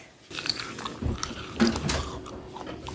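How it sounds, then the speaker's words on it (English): Close crunching of a crisp vegan tuna casserole in several bites, sharp crackly bursts spaced irregularly over a faint background, no speech. "Now listen to the crunch."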